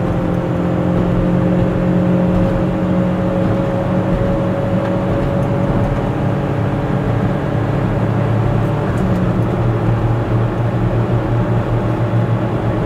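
A car with upgraded 14-inch tires climbing a hill in fourth gear, its engine giving a steady, loud droning hum with road and tire roar filling the cabin throughout.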